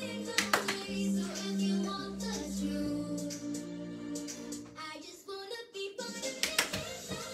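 Hands clapping in quick bursts during a throw-and-catch exercise, sharp close claps in short clusters separated by pauses, with a low voice underneath in the middle stretch.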